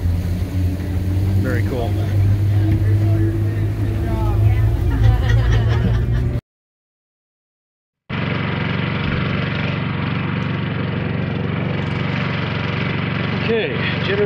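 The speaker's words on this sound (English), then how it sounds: "generator's fired up" A generator runs nearby with a steady, loud low drone that continues after a brief cut, on a halibut fishing trip in Homer, Alaska; voices are heard over it.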